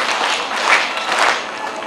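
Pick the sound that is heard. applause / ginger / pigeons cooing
applause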